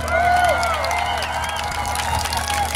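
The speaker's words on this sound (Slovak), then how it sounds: "dajte si prosím vás obrovský potlesk" Crowd at a children's festival in Liptovský Mikuláš claps and cheers in a lively burst, a busy mix of hands and voices with some shouts rising over it, fairly loud and close.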